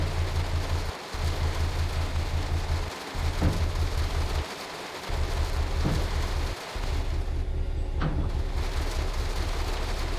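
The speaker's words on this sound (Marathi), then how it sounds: "थोडा पाऊस, चिंब चिंब पाऊस." Steady, hissing rain from the Train Sim World 3 simulator on the London Charing Cross to Gravesend run, laid over a deep, continuous train drone that cuts out briefly a few times, with occasional faint knocks.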